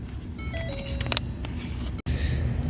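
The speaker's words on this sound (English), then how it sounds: "so you'll hear an audible tone." Ford Ranger dashboard sounding a warning tone after its headlight controller is disconnected: a few faint electronic beeps and chimes over a steady low background hum, with no talking.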